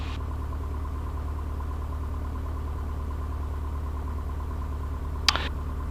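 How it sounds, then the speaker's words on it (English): An aircraft engine idles steadily during its warm-up after preheating, a constant mid-level hum with a low droning pulse and one short click near the end. "I had to warm up the engine, preheat, and then I started the engine."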